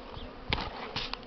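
Honey bees buzz around a hive in a steady, close hum, with a few louder passes as individual insects move near.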